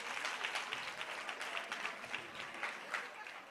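A seated audience at a parenting-track session of a professional development institute claps together, a steady dense patter of many hands with slight rhythmic swells, fairly distant and continuous throughout.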